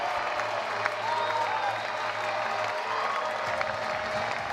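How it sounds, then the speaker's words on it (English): A baseball crowd at an NCAA college game, Texas A&M versus Florida, applauds and cheers steadily after a home run, a dense sustained roar with scattered whistles, filling the whole stretch at even loudness. "And the crowd is absolutely loving it"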